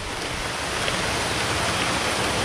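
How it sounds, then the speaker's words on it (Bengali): Heavy rain pours down in a dense, even hiss that stays loud and constant, with no voices or other sounds breaking through. "বিশাল জোরে বৃষ্টি শুরু হয়ে গেছে"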